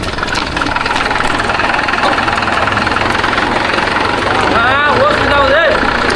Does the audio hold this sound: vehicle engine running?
yes